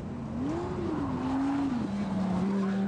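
A Lamborghini Gallardo driven on cold tyres, its engine a steady, close drone that swells and dips in pitch as the throttle changes, continuous throughout.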